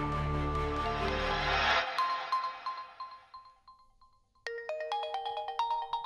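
A mobile phone signals an incoming call with a melodic electronic ringtone, loud and close: one chiming phrase fades out, there is a brief gap, then the tune starts again in repeated bright notes.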